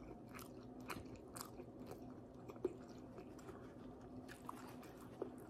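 Someone eating Filipino pancit palabok at close range, with soft wet chewing and occasional small bites or crunches in a steady, quiet rhythm and no talking.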